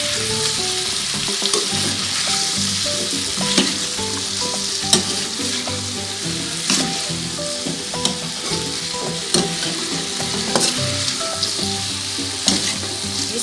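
Carrots and potatoes sizzle steadily in a hot pan for chicken caldereta, a loud continuous frying hiss with scattered pops and occasional stirring clatter, no voices.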